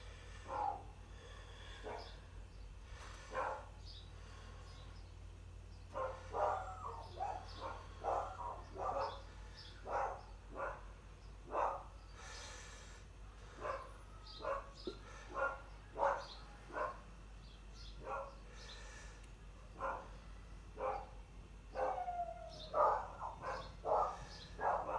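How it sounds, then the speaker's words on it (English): The neighbour's dogs bark at a distance in repeated faint, scattered barks and yips over a quiet steady hum, with occasional birdsong mixed in. "Can you hear my neighbour's dogs?"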